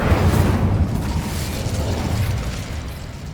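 A fire blast from the Incendio spell in Hogwarts Legacy, played on hard mode, roars as a loud, dense burst of crackling flame with booming low rumble that holds steady and fades only slightly.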